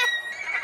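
A cartoon horse gives a short, bright whinny, a quick quavering neigh heard alone and close, lasting well under a second.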